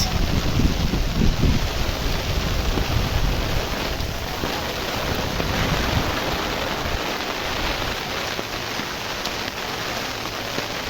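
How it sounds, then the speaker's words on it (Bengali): Heavy rain pours steadily over a canal crowded with fishing trawlers and small ships, gusting wind adding to a dense, unbroken hiss that stays loud and close for the whole stretch. "বৃষ্টির তীব্রতা কতটুকু তাও এখান থেকে টের পাওয়া যাচ্ছে"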